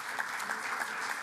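Brief, faint burst of audience applause at a health summit, steady clapping texture from a distant crowd lasting just over a second.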